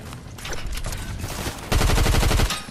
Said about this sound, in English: That's SMG.